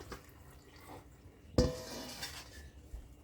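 A cooking pot is handled while water is drained off boiled potatoes, with a sharp metallic clank midway followed by splashing and dribbling water, fairly quiet overall.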